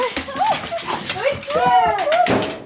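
Dogs meet again after time apart, giving excited high whines and whimpers in short bursts close by, mixed with people talking over them.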